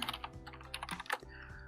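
Fingers type on a computer keyboard, a quick close run of light clicking keystrokes with uneven rhythm and no voices.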